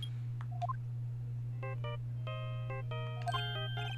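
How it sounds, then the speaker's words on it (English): Redial on a phone in the Phoenix Wright video game sets off a rapid run of dialing tones, several short beeps in quick bursts after a couple of brief electronic chirps, heard alone over a low steady hum. "Hit that redial button."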